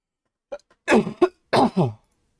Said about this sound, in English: I've had this terrible cough for a few days